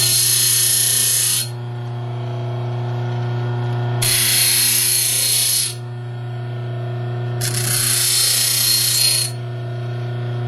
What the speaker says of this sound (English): to make a simple hook, we can keep it all in the grinder